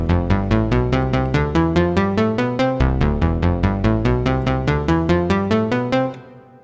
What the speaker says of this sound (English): It's a 2-octave major scale, and it sounds like this.